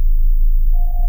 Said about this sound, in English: massive sub with those digital blips